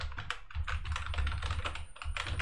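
Fast, steady clicking of keys as a website address is typed on a computer keyboard, close and continuous with no talk.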